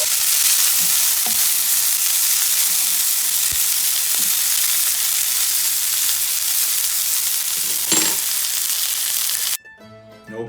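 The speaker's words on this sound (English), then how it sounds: "After it's been frying for a few minutes" Calabrese sausage fries in a pan with a loud, continuous sizzle and crackle, a few sharper pops and stirring scrapes breaking through, before the sizzle suddenly drops away near the end.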